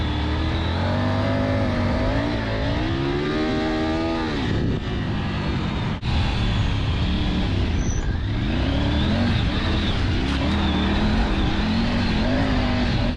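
A Triumph Tiger 900 Rally Pro motorcycle engine runs loud and close, its note rising and falling through repeated revs for the whole stretch without any talk.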